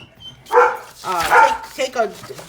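A dog barks several times in quick succession close by, loud sharp barks with a brief whine between them, heard without any talking.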